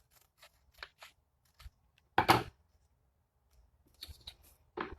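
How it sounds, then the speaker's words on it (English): Scissors snip paper while making a kids' craft flower, giving a few short, close, isolated cuts with one louder crunching snip in the middle and quiet gaps between. "you're going to cut it again from the corner all the way up to the other corner"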